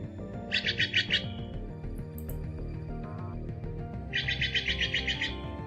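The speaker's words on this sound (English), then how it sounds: "That's my favorite bird." A bird chirps in two quick bursts of rapid, high, repeated tweets, one early and one later, over a steady background of sustained tones, with no speech.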